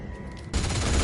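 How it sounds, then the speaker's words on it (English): A machine gun turret in the Fallout game opens fire partway through, a sudden loud burst of rapid gunfire after a quieter moment, dense and close. "let's check out this machine gun turret."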